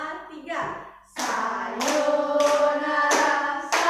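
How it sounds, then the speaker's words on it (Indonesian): Children clap their hands in a steady beat while singing the song Sayonara in class, with loud regular claps under the group singing after a short spoken lead-in. "kita nyanyi bareng-bareng ya sambil tepuk tangan"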